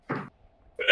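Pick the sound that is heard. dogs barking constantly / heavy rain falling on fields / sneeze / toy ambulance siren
sneeze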